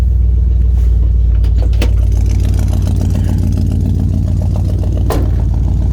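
A Chevy Suburban with a 353 engine runs steadily after a cold start, a loud, close, continuous low rumble with the choke partly out and a few faint clicks over it.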